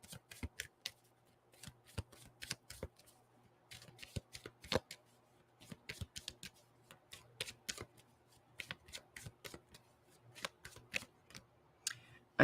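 Oracle cards being shuffled by hand, a quick series of crisp riffling bursts and soft slaps repeating in irregular clusters, fairly close and alone without talk.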